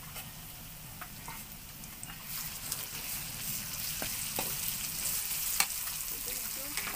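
Ginger, garlic and onion paste frying in a pan for a pot of beef curry, a steady close sizzle with occasional crackles and soft stirring scrapes, no voices.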